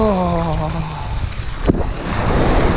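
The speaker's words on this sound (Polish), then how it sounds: "I plaża kamienista." Surf washes over a stony pebble beach on a Greek mountain coast, a steady broadband rush with a sharper splash near the middle, while a person briefly exclaims at the start.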